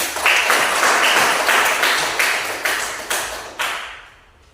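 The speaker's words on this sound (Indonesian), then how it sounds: "kita beri aplaus untuk Betty" Classroom audience applauding a student named Betty, a loud steady burst of many hands clapping at close range that swells in waves and tapers off after about four seconds.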